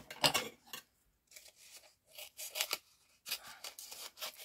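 Scissors snipping through paper card during stamped papercraft trimming, a few quiet crisp cuts in short bursts with brief pauses between them.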